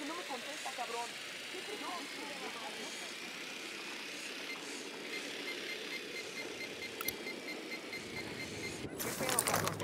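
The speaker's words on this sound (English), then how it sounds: "Drone is airborne." A recon drone flying in the video game Ghost Recon Wildlands gives a faint, steady airborne whir that continues throughout, with muffled voices beneath it and a louder burst of noise at the very end.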